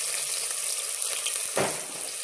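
Onion dropped into hot oil for a spicy chicken gravy, a steady close hiss of frying with a brief sharper burst partway through.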